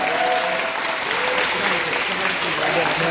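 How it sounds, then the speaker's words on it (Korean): Applause from a high school audience greets arm wrestler Hong Ji-seung at the opening of a Busan inter-school arm wrestling contest, steady dense clapping filling the short span with voices mixed in. "여러분들 박수 한번 드리기 부탁드립니다."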